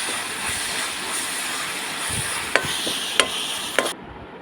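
Soybean curry ingredients sauté in a pan over a wood-fired stove: a steady, close hiss and sizzle with three sharp spatula scrapes toward the end before it cuts off.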